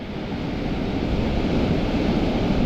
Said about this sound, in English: there's a bit of a wind